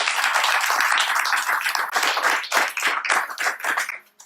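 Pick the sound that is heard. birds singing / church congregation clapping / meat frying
church congregation clapping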